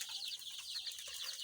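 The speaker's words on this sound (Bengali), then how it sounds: "এই যে একটু সুস্থ সবল বাচ্চা, মিশরি ফার্মি মুরগির বাচ্চা।" Young Egyptian Fayoumi chicks give a continuous chorus of high, rapid peeping, faint and close, with overlapping chirps and no talking.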